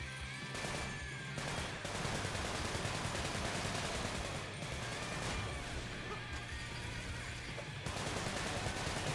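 AK rifle fire in the video game Sunset Overdrive comes in repeated rapid bursts, fairly quiet and somewhat distant, spread across the stretch with short pauses between volleys.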